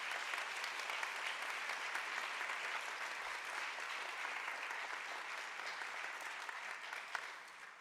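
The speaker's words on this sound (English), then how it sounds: "I think with some applause would be appropriate." An audience at an annual meeting applauds in a dense, sustained wash of clapping that stays even and fairly distant throughout.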